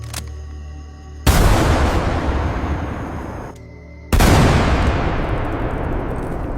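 Two huge mortar blasts go off in quick succession, each a sudden loud boom that rolls into a long rumbling decay, the second about three seconds after the first, over a low droning background.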